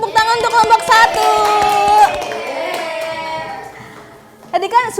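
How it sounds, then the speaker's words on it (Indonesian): Students clap for group 1 in a classroom, a short burst of scattered hand claps mixed with children's cheering voices, fading out and then briefly returning at the end. "Tepuk tangan untuk kelompok 1"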